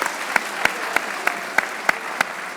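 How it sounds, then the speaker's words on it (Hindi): A small group claps in an even, steady rhythm, about seven sharp claps spaced roughly a third of a second apart, over a noisy room hum during a cricket-themed show segment on Pakistan versus England. "तालियां हो जाए"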